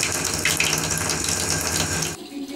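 Tap water runs in a steady, loud gush in an apartment building whose supply carries sand and smells of rotten eggs, then cuts off abruptly near the end, leaving faint room tone.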